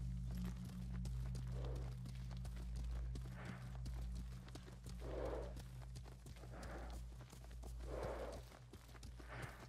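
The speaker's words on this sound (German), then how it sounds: "Wir reiten zum goldenen Tempel." A horse galloping in Ghost of Tsushima, rapid rhythmic hoofbeats sounding throughout with soft breathy gusts recurring every couple of seconds, steady and close.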